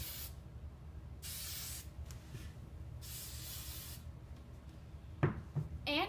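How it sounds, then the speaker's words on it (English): Hairspray from an aerosol can is sprayed onto freshly curled hair in several hissing bursts of about a second each, close and steady, followed by a few light rustling sounds. "I'm just gonna spray some hairspray."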